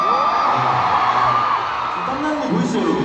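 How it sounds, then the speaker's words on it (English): Concert audience cheering and screaming at a live show, a continuous roar of whoops and yells filling the room at steady loudness with no clear pauses. "it includes your cheers and your screams"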